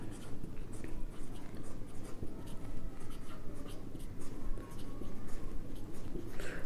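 Pen scratching an accounting journal entry by hand onto paper, a steady close scribbling texture with light rustling, no voices.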